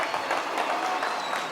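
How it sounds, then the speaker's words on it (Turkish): A crowd of wedding guests at a Turkish wedding applauds the in-laws, a short burst of dense, bright clapping that holds steady at close range throughout. "Düngürlere bir güzel alkışlar gelsin hürmetli dostlar"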